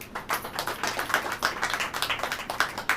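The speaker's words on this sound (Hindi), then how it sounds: "ताली बजाइए" A church congregation claps together during a sermon, a dense run of many hands close by, steady and loud for a few seconds with no talk over it.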